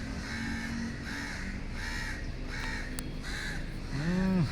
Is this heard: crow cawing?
yes